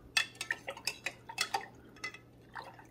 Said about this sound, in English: I'm going to stir it just to kind of make sure it gets all dissolved